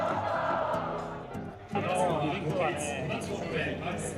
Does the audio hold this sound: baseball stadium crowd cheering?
yes